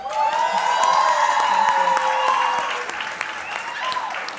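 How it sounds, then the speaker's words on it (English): Audience at a business event applauding a speaker named Maria, sustained group clapping with some cheering and whoops, while a voice talks over it throughout. "Maria, I think you deserve a bigger round of applause"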